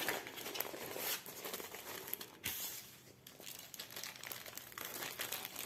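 A diamond painting canvas is wrapped up for packing, giving close, continuous crinkling and rustling of wrapping material with a few sharper crackles.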